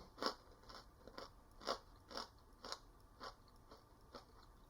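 Crunchy chewing of food comes in about ten rhythmic, close bites, each a crisp crackling burst, quiet and with no talk.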